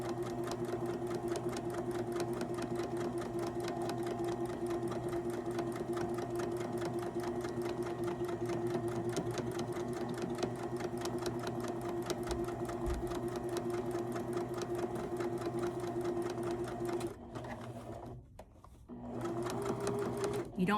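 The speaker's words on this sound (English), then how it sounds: "So I'm using a dark navy thread and we're just going to sew along that stitch line." A sewing machine stitching a dark denim pant hem with navy thread runs steadily with a fast, even, rhythmic whir, then slows and briefly stops near the end.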